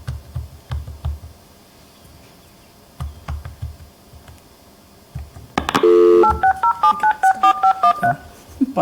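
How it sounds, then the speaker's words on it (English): A short run of telephone keypad dialing tones, evenly spaced distinct beeps, heard clearly and close after quiet talk at a town budget public hearing, with a few soft thumps before. "I dialed the wrong number."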